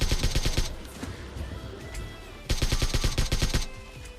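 Rapid automatic gunfire in the mobile shooter PUBG Mobile Lite, two loud bursts of quick shots separated by a short gap of quieter game sound.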